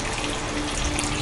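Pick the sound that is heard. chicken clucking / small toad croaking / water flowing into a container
water flowing into a container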